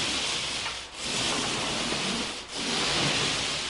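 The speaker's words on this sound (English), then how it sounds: "And then I'm going to bring my roller and kind of feather it back into the trim." A paint roller rolling paint onto a wall near the trim, a continuous close sticky rubbing swish with two brief pauses as the stroke changes direction.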